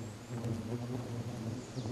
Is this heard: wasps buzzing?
yes